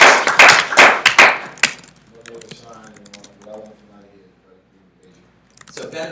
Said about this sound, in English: everybody give Kayla a great round of applause